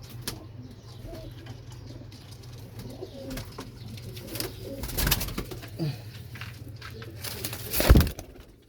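Champion pigeons cooing in low, soft murmurs at close range, with scattered bird calls and a sharper flutter or knock near the end.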